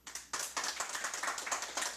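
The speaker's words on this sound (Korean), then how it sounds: "큰 박수로 환영해 주십시오." An audience at a construction safety seminar claps to welcome a presenter, a moderate run of many hands applauding steadily in a hall, slightly distant.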